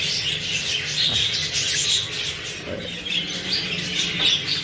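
Budgerigars in a breeding cage give a steady stream of close, busy chirps and twitters, with soft rustling underneath and no talking.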